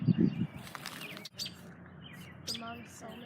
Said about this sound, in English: Red wing blackbird in there.